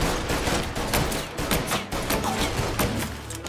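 Rapid bursts of gunfire and sustained automatic fire crack out in the Mafia Definitive Edition video game, a dense, loud volley of repeated sharp shots with no pause.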